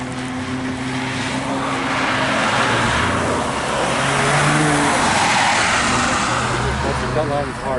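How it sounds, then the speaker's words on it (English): A car drifts through an autocross course at Lime Rock Park, tires skidding and squealing over a roaring engine, loud and close throughout, with voices talking over it. "Oh yeah, you're drifting there."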